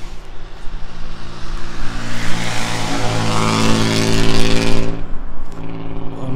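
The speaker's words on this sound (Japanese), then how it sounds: "マフラー、これ穴開けてるマフラーね" A car engine revs hard through a perforated, drilled-out muffler, giving a raspy, rattling exhaust note that holds loud and steady for several seconds before cutting off abruptly near the end.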